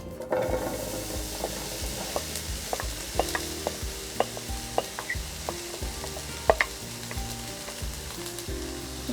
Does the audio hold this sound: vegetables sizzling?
yes